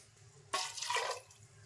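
Water is poured into a pressure cooker while making chole masala, a short splashing rush lasting under a second before fading to quiet.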